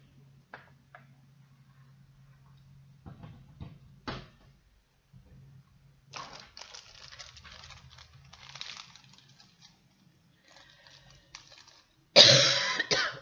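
A sharp burst of coughing comes at the end, after quiet stretches of faint rustling and small knocks, with a low hum underneath.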